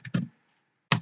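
Three sharp computer keyboard keystrokes while CSS code is typed: two close together, then a pause and a third, each a crisp, close clack in silence.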